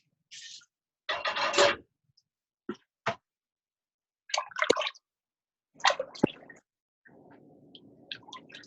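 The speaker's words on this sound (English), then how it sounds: "So you add all the spices, and then you add the water." Water is added to a pot of spices while cooking Maqluba, heard as a few separate splashy bursts and light clinks with quiet gaps between them, close and fairly soft.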